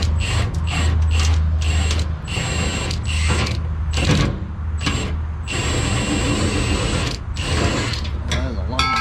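A ratchet wrench works a long bolt loose on a Chevrolet 3500 one-ton OBS GMT-400 truck. It makes close, loud bursts of rapid clicking in repeated strokes with short pauses between them, and a voice speaks briefly.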